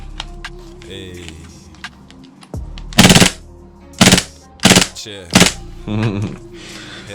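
An airsoft gun fires in full-auto bursts: four or five loud, close rattling volleys of rapid shots in quick succession, with a mechanical whir and faint handling noise before the shooting.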